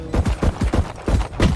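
Rapid gunfire in a tactical shooter video game, a burst of about seven loud, punchy shots in quick succession, close and alone.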